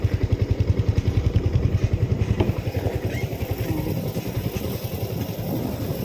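A Honda CBR motorcycle engine runs near and steady, with a pulsing low rumble that softens slightly after the first couple of seconds and carries on at an even idle-like throb.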